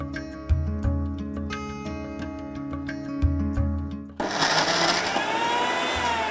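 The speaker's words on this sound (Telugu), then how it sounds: "ఈ విధంగా మనం గ్రైండ్ చేసుకోవడం జరిగింది" A mixer grinder whirs loudly through cabbage chutney with a steady tonal motor hum and pulsing low thumps, then shifts abruptly into a harsher, noisier grinding roar for the last couple of seconds; no talking.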